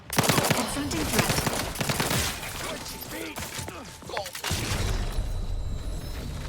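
Gunfire erupts in the video game The Outer Worlds 2, with an enemy firing a shotgun amid dense, rapid bursts of shots and crackling combat effects, loud and continuous, with game voices mixed in.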